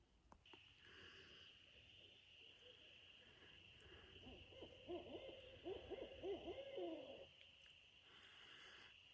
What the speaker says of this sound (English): Listen to the owls.